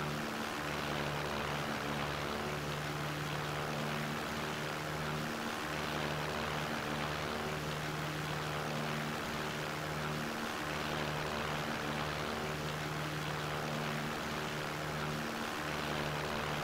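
The propeller airplane engine in the video game Takeoff drones steadily throughout, a constant, even, buzzing hum with no breaks, moderately quiet.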